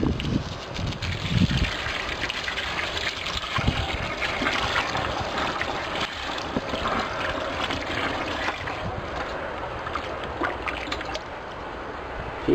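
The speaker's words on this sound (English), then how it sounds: "I always let the water run for a good 30 seconds at first" Water from a garden hose runs steadily, a dense, continuous rushing and splashing close by that stays loud and unbroken throughout.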